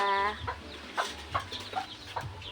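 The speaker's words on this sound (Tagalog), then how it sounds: "Pasaway naman tong manok na ito." A chicken clucks in a short, fairly quiet series: a drawn-out, tonal call opens, followed by about half a dozen clipped clucks spaced roughly every half second, with no talking.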